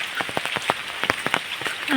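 Light monsoon drizzle, scattered drops tapping on a surface, an irregular light patter against a faint background hiss.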